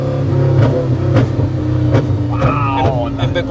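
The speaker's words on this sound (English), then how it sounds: "if you want to rev it, it's usually good to start with it like second gear" A Volvo fitted with a Lamborghini engine revs hard on a straight, a loud close roar that climbs and shifts pitch in surges, rising sharply toward the end.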